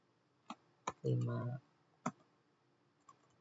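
A computer keyboard in a Linux terminal session gives a few sharp, isolated key clicks, spaced apart, with a brief burst of speech in the middle.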